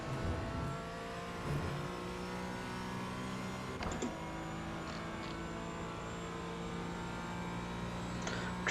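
A race car engine in a VR racing sim at VIR, held at a steady drone with layered harmonic whine as the throttle is fed in and out, shifting pitch a few times and ending in a brief sharp spike.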